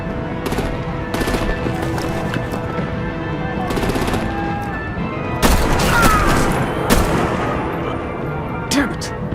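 Bursts of machine-gun fire and artillery blasts from the Batman: The Enemy Within video game rattle in repeated loud volleys, with voiced dialogue in between the shots.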